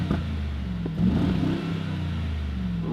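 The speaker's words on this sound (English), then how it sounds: "Let's give it a couple revs." A Mercedes-AMG G63 with its V8 bi-turbo engine and active exhaust on in Sport Plus revs once, a deep throaty swell rising briefly over a steady low idle rumble, close by with no talk.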